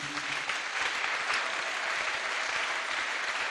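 A church congregation claps together in sustained, dense applause, steady and fairly loud throughout with no clear speech.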